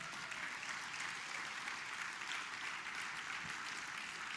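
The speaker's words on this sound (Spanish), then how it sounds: "Dale un aplauso al Señor en esta." Congregation clapping during a church sermon, a dense, continuous, fairly distant wash of many hands at an even level with no voices on top.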